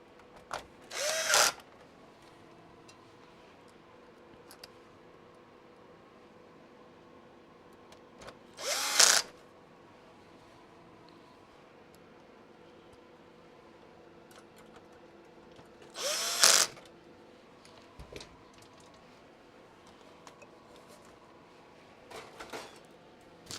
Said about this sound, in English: Now we gotta put these 3 screws back in.